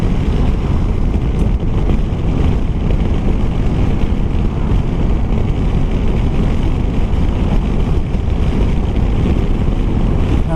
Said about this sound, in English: It is a bit windy out today.